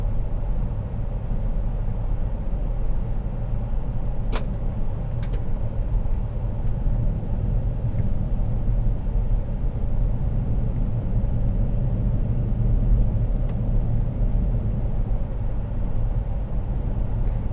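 Steady low road rumble from a 2019 Chevrolet Suburban RST with magnetic ride control cruising on the highway, a continuous even engine and tire drone with a few faint clicks, no voices.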